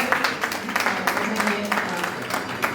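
Applause from an audience at a Hindi literary award ceremony and anniversary celebration, a steady wash of clapping with a few sharper claps, held at moderate level for a few seconds after the speaker is introduced.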